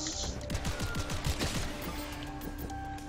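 An assault rifle fires in the video game Seraph: rapid bursts of close gunshots in quick succession, followed by quieter mechanical and ambient game sounds.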